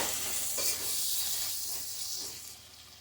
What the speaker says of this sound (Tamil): இப்போ கொத்தமல்லி சேர்த்து நல்லா வந்து வதக்கி விடுங்க.